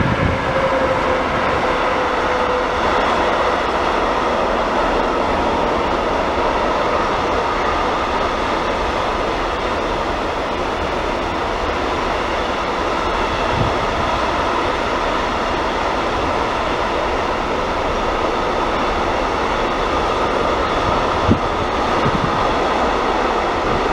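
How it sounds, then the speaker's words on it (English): Heavy trains roll past on the tracks, a loud, continuous rumble with wheel noise and clatter that stays close and steady throughout, with some wind and no talking. "I love the sound of the heavy trains"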